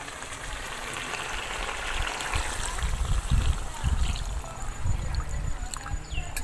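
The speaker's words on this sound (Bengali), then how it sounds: "তো এবার আমি জল দিয়ে দেব।" Water poured into a pot of browned chicken and new potatoes on a village stove, a steady rushing trickle that swells in the middle and sputters against the hot pan, fairly close and continuous.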